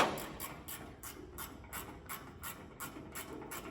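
Ratchet wrench clicking out bolts on a Ford Falcon XB coupe during rust repairs, a steady series of about ten quick, evenly spaced ratcheting bursts, fairly faint and close, with no talk.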